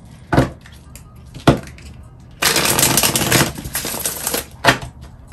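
A deck of Messages of Love oracle cards is shuffled close by: a couple of sharp taps, then a dense two-second rustling riffle of cards, followed by softer flutters and another tap.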